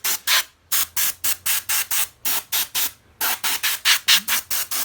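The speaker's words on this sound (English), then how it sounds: "I'm going to use this little airbrush to" A small airbrush sprays over silicone in a teeth mold to clear bubbles, firing quick regular hissing bursts roughly four or five per second, close and loud, with two brief pauses between runs.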